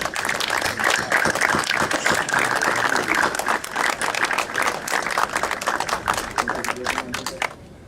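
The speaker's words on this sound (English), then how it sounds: "Let's give them a round of applause." Outdoor audience at a Sainte-Mère-Église memorial ceremony applauds World War II veterans, a loud sustained wash of clapping lasting most of the stretch before cutting off abruptly at the end.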